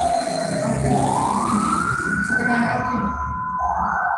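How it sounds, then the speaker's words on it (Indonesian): An ambulance siren passing along the road outside, its wailing tone rising and sweeping steadily over a few seconds, loud and continuous against a background of room noise during an online training session. "itu ada ambulan lewat"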